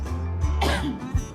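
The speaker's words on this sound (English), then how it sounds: "that was a cough. I was trying to hold it in." A single muffled cough, close and partly suppressed, followed by a brief throaty sound.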